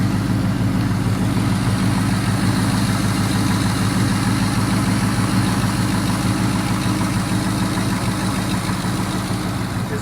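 A Chevy LS 5.3-litre V8 engine, out of a vehicle and running cold on a stand, idles with a smooth, steady low rumble throughout, close and alone.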